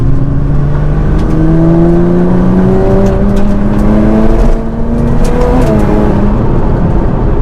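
A Nissan GT-R R35 engine on lowering springs revs hard and climbs in pitch as it accelerates through a sharp turn, loud and close, with a brief dip midway before pulling again.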